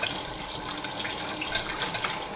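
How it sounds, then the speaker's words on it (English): A blown-out eggshell being rinsed under a running kitchen tap, a close, steady rush of water splashing throughout the short stretch. "One more rinse."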